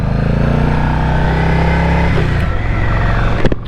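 Yamaha Stratoliner motorcycle under way, a loud close engine drone with strong low rumble that holds steady, then shifts pitch as the rider changes speed, with wind noise throughout.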